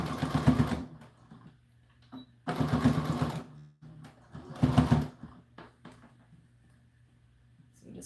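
A sewing machine stitching a doll dress runs in three loud close bursts of rapid whirring, with quiet gaps and faint handling sounds between them.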